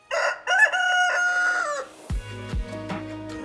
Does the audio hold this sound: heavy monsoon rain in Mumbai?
no